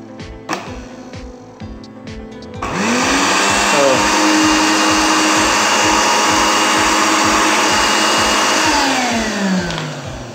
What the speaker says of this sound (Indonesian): Jadi sebenarnya ini blender kondisinya nyala